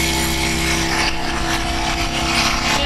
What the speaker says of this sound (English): Because it's an outboard, it's pretty loud when it's running.